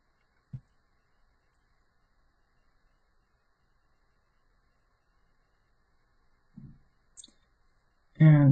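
Computer mouse clicks, a few sharp, isolated taps spread across a quiet stretch, followed by a voice starting up right at the end.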